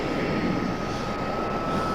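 A departing airplane rolls near the end of a runway, a steady broadband engine roar filling the short stretch at moderate distance with no talk.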